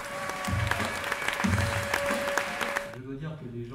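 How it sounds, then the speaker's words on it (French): An audience applauds at the opening ceremony of the Gérardmer film festival, dense clapping under a voice and a sustained tone, then the clapping fades as he keeps talking. "je vais maintenant accueillir sur scène sous vos applaudissements le créateur et délégué général du festival de Gérardmer, mesdames et messieurs, Lionel Chouchan."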